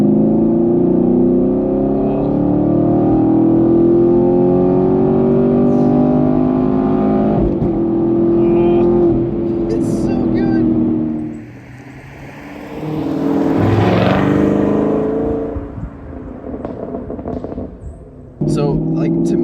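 A Chevrolet Camaro 1LE accelerating hard with its tail kicking out, a loud rising engine roar that drops off, then surges again in a second revving climb, close to the listener.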